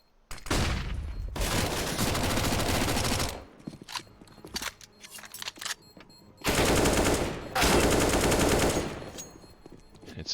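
MAC-10 submachine gun fire in the video game CS:GO, loud sustained automatic bursts of several seconds each, separated by quieter stretches of scattered shots and game sounds.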